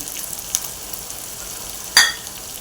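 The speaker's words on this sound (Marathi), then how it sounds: "हेही परतून घेऊया वाटण छान परतून घ्यायचं त्याला तेल सुटेल" Ground spice paste (vatan) fries in hot oil with tomatoes for matki usal, a steady soft sizzle close by, broken by a brief louder scrape or clink of the spoon near the end.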